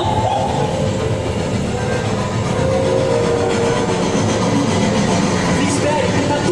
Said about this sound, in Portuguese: Tem um trem vindo na nossa direção!